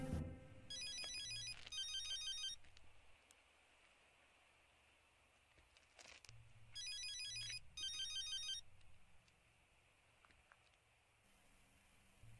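A telephone rings in two pairs of electronic trilling bursts, separated by a long gap of quiet hiss, close and clear with no talk over it.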